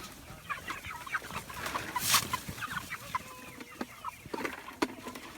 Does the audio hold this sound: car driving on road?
no